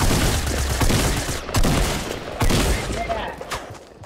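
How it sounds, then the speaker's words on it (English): Players exchange fire in Fortnite: dense bursts of gunshots and rapid volleys run continuously and loud, with a few sharper shots standing out. "So, people are shooting you."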